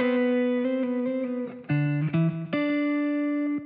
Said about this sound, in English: And I just love this psych delay.